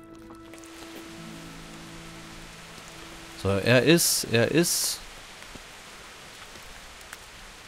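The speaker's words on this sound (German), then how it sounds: "Warum regnet das denn?" Steady patter of rain in the game Kingdom Come: Deliverance runs throughout, a soft even hiss under a short burst of talk midway.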